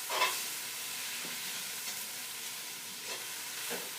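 Beef with peppers and onions sizzles steadily in a cast iron pan, a soft continuous hiss broken by a few faint scrapes of tongs.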